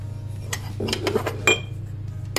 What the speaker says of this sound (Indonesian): Diaduk aja rata gini.